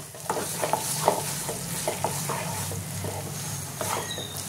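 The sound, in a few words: stirring eggplant bharta with coriander leaves in pan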